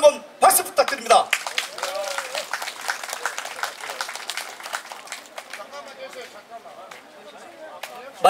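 An outdoor crowd at a village Chuseok festival singing contest claps and cheers on an announcer's cue, with a dense, steady wash of applause that fades toward the end, overlapped by someone speaking over a microphone.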